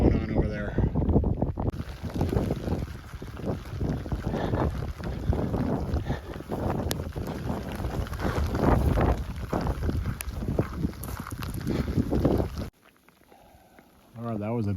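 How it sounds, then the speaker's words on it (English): Rumbling thunder rolls through rain in a mountain meadow near a ridge, a long, loud, wind-buffeted roar that swells and sustains for about eleven seconds before cutting to quiet. "that was a big thunderclap."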